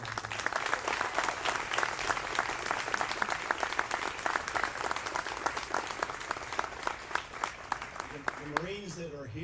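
Sustained, dense applause from a large audience at a Marine barracks ceremony, steady and fairly distant, fading out with a voice beginning to speak at the end.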